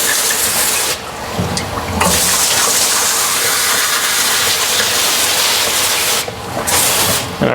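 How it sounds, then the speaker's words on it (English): Water sprays hard onto hot parts from a GM 5.3 engine overhaul, a loud, dense, steady hiss that briefly drops and resumes twice, close up with no talking. "I rinse everything off."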